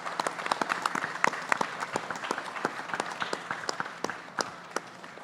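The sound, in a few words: applause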